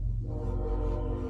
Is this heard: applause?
no